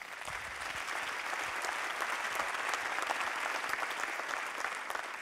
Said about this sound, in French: Pareil, ça mérite un applaudissement, ça.